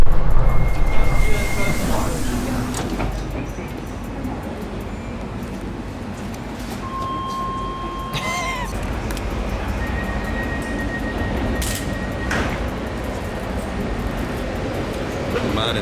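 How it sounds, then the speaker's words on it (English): A ride on London's Docklands Light Railway, with a steady rumbling roll inside the carriage, brief tonal squeals and beeps, and a louder whoosh near the start, while people talk. "And we're taking the very exciting Docklands Light Railway, which is always fun."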